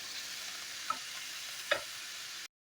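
Spice paste for a coral fish curry sizzles softly in a pan, a steady quiet hiss broken by two brief spatula scrapes or taps before it cuts off.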